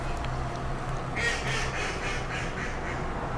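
Ducks on a stream quack in a loose series of nasal calls against a steady wash of flowing water, fairly close and clear over the running creek.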